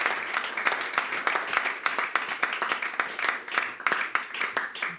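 A church congregation at a Sunday worship service claps steadily, with many hands producing dense, rhythmic applause that carries on throughout. The clapping is moderately loud and stays fairly even.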